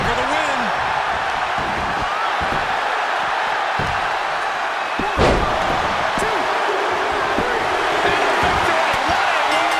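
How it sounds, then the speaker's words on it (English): Wrestling video game Falls Count Anywhere match: a heavy body slam thuds out mid-clip over constant crowd noise, with a few smaller impacts and an excited commentator talking throughout. "Get slammed down!"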